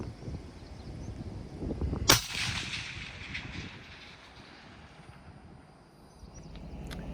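A long-range rifle shot fired at a deer target 1,500 to 1,700 yards out, from a Hunt 26 MDT chassis rifle: one sharp, loud crack that decays slowly over outdoor background noise, with no talking.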